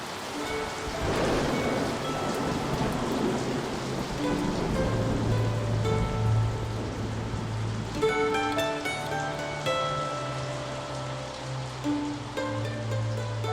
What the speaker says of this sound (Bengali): টিনের চালে বৃষ্টির আওয়াজ শুনতে বড্ড ভালো লাগে